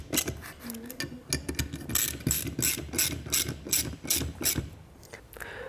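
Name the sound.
ratchet tightening bolts with a 9/16 socket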